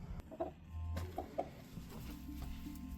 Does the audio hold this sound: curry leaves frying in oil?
no